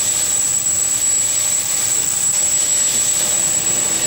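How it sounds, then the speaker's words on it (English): A plane's engine gives off a continuous roaring drone with a high, steady whine running above it, loud and unbroken throughout, with no talking. "I think it is their plane over there."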